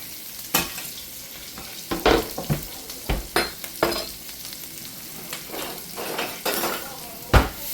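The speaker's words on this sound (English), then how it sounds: "we're going in with our half an onion, our garlic, and our banana and jalapeno peppers" Chopped onion, garlic, banana peppers and jalapeno peppers hitting hot oil in a pan, a soft sizzle under repeated scraping and stirring knocks from a utensil, close and moderately loud.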